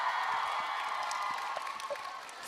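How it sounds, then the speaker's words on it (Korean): Steady applause and cheering from a crowd at a K-pop idol's mini album showcase, a continuous wash of clapping with scattered whoops, heard at a moderate distance. "여러분 박수 보내주세요."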